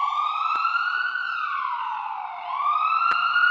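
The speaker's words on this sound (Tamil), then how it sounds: "ஆம்புலன்ஸ்." An ambulance siren wails in a steady, loud rising-and-falling tone, heard alone and fairly close throughout.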